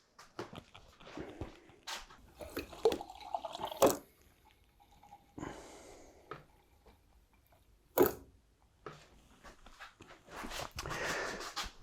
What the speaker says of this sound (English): So before I start this video, I'll just pour myself a beer over here.